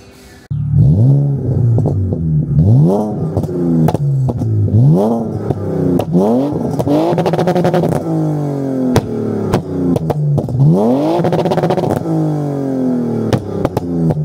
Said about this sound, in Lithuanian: Kaip girdėjote, išmetimas jau suvyrintas.